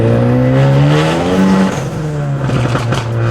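A big-turbo Ford Focus ST with an HKS blow-off valve revs loudly up close, engine tone climbing and holding, then dropping off with a release as the throttle lifts before building again.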